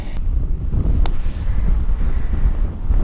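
Steady wind buffets the microphone on an open golf course, a continuous low rumble that stays loud throughout with no voices.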